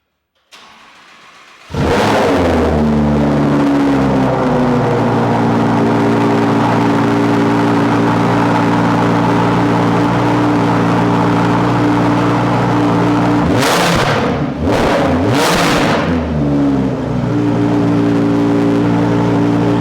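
Lamborghini supercar fitted with an aftermarket race exhaust starts up with a loud bark, then settles into a steady, booming idle, with a cluster of sharp throttle blips near the end, all close and without talk.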